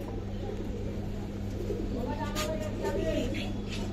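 Giribaz pigeons coo softly close by, low repeated throaty calls under steady background hum, while someone talks over them.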